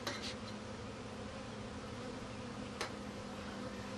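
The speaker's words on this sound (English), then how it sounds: "It's kind of hard not to be in the flight path of the bees right now" Bees fly around a beekeeper who stands in their flight path beside a hive, giving a steady close buzzing drone that is loud and continuous with no talk.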